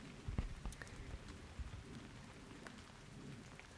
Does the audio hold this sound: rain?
yes